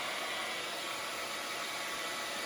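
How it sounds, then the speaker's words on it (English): A hair dryer running on high, powered by a Jackery 1500 portable power station, gives a steady, loud whooshing roar that holds unchanged throughout with no voices. "will a Jackery 1500 run a hairdryer on high?"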